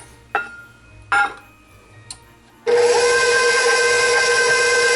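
An electric mixer beating cookie dough with sugar for raspberry almond Linzer cookies, starting after a few clicks and short bursts, then running loud with a steady whine to the end.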